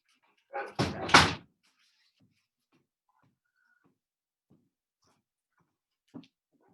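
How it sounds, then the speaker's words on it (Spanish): A door swings shut with a short burst of thudding and rattling, then quiet, with a faint knock a few seconds later. "Voy a cerrar la puerta para que no escuchen los ladridos"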